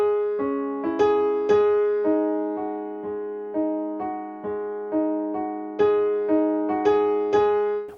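A piano plays a steady run of repeated triplet-style notes from Beethoven's Moonlight Sonata, a bass tone held underneath, each stroke decaying before the next at an even pace, rendered with mechanical literalness.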